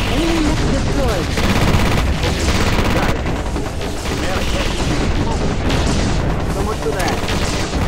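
Battle gunfire in the MechWarrior 2: Mercenaries video game as a mech takes enemy fire. Dense, loud, continuous bursts and booms fill the whole stretch, with a radio-style voice speaking over the combat.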